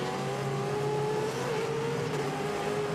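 Trans Am race cars at Road Atlanta, one passing another on track, give a loud, sustained engine roar with a steady high drone that shifts slightly in pitch partway through.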